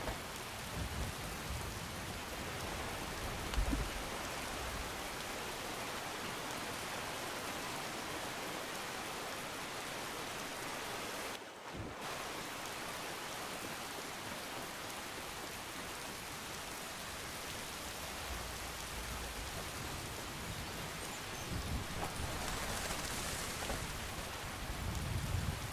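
Steady rain hisses without letup in the video game Skyrim, a dense even wash of falling water, briefly cutting out for a moment midway before resuming.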